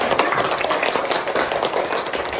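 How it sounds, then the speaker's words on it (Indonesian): Children in a second-grade classroom clap for a classmate, a brisk, uneven patter of small hands close by, lasting a couple of seconds. "Tepuk tangan dulu untuk teman kamu."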